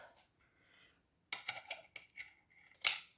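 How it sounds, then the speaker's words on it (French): Scissors cut through a piece of fabric while making a small hat: a few faint snips, a pause, then a close run of crisp, rapid snips ending in one louder cut. "Je vais déjà couper mon morceau."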